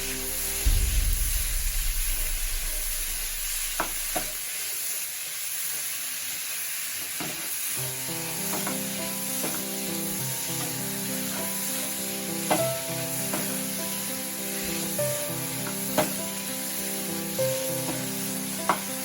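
Chicken and rice sizzle in a pan, starting with a short heavy clatter, then a steady hiss with scattered stirring clicks and scrapes, close and alone with no talking.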